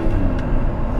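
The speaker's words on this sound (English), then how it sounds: "Let's go drive my new Countach." A Lamborghini Countach being driven gives off a steady low engine rumble, loud and close, holding evenly through the whole second with no talking.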